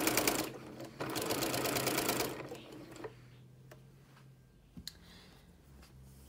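A sewing machine runs fast and steadily for about two seconds while stitching the curved seam of a cozy cardigan, then stops, leaving a quiet room with a few faint clicks.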